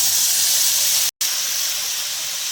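Loud, steady steam hiss from a little water poured over sponge gourd pieces frying in oil in a pan. The sizzle runs throughout and breaks off only for a split second in the middle.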